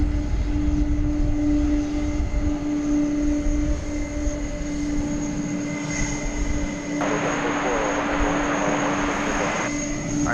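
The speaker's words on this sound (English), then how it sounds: "This is the MD-11 trucking on out." An MD-11 airliner taxiing at DFW Airport gives off a steady, moderately loud engine whine with sustained tonal hums, and a broader rushing surge joins in partway through.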